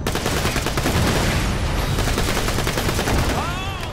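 Dense, continuous rapid-fire shooting from a gun in Borderlands: The Pre-Sequel, loud and close, one unbroken burst of shots with a faint voice underneath near the end.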